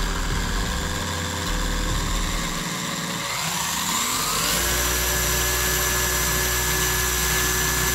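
Motor running steadily at its second speed after a brushless kit upgrade, with a continuous hum that shifts pitch partway through as it settles at the higher speed.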